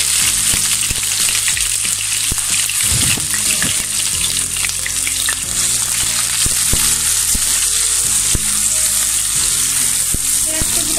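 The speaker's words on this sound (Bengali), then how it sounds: "পেঁয়াজ কুচিটাকে আমি লাল লাল করে ভেজে নেব।" Chopped onion frying in about nine tablespoons of hot oil for beef haleem, a loud, steady sizzle with scattered crackles and occasional stirring scrapes throughout.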